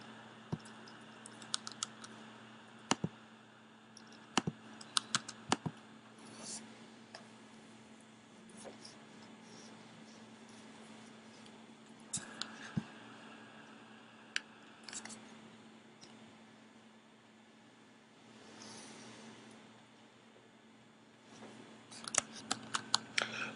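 Keyboard keys clatter in scattered bursts on a computer, with sharp clicks clustering and pausing over a steady low hum, fairly close and without talk.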